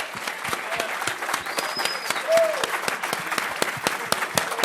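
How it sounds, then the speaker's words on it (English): A conference audience applauds after a talk, with steady dense clapping from a moderately sized crowd throughout. "please have your discussions outside after a round of applause for Dennis Kucinich and Leah Bolger."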